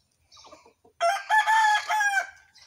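A rooster crows once loudly and close by at a home in the morning, a long rising and falling call after a few softer clucking sounds.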